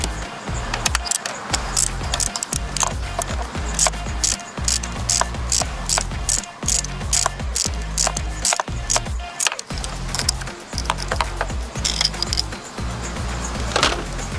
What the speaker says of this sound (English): And just crack those bolts free like that.